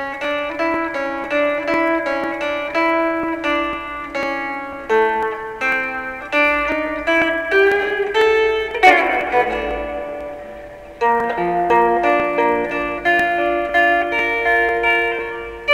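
An electric guitar plays a section of an instrumental, a quick run of clean picked notes with effects, a strummed accent in the middle, then more picked phrases, loud and alone.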